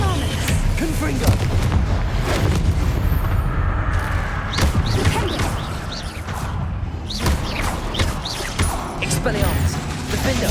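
Confringo and Incendio spell blasts in Hogwarts Legacy, a dense run of booming, crashing impacts that keeps going throughout, with a voice talking under the combat.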